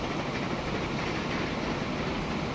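A train running in the video game Transport Fever 2, a steady, dense rolling rumble with a continuous rail hiss that holds at an even level throughout, with no talk.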